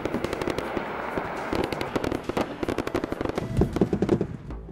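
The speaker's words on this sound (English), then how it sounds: "It's also a great deterrent when airbursts are exploding around" Pyrotechnic airbursts fired from a vehicle protection system crackle in rapid, dense bursts of sharp pops and bangs, loud and close, with some heavier thumps near the end.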